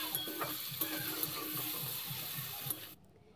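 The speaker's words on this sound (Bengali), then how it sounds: "এখন সব মশলাগুলোকে একসাথে কষিয়ে নেব।" Chilli, turmeric powder and ginger paste frying in a pan, a soft close sizzle with light stirring scrapes that cuts off just before the end.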